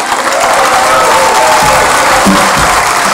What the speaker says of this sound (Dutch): Applaus voor Jan